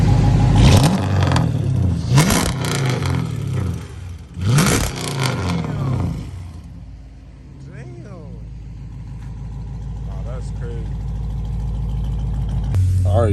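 A cat-deleted Dodge Charger SRT engine barks through several loud, sharp revs in quick succession, then drops to a rumbling idle, with someone talking over part of it.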